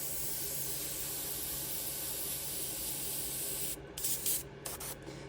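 An airbrush sprays paint over a skull stencil with a steady, close, even hiss that runs unbroken, then sputters into several short bursts near the end.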